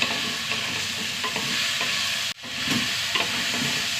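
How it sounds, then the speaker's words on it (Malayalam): Eggplant sautéing in a pan, a steady close sizzle of frying with stirring scrapes throughout and one brief dip near the middle. "ഒരു 4 വഴുതനങ്ങ ഇട്ട് വഴുതന ഒന്ന് വഴണ്ട് വരട്ടെ"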